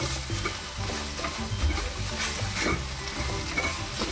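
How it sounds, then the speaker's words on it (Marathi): Cooked vegetable curry stirred in an uncovered pan makes a dense, continuous sizzle and scraping that stays fairly loud and even throughout, with no talking. "हे आता मी झाकण काढून घेते परत एकदा आणि ही भाजी छान अशी मिक्स करून घेऊ"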